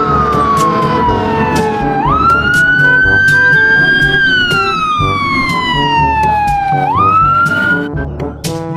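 A loud electronic siren from a toy fire truck sweeps slowly up and down in pitch, with clicking and rattling mixed in.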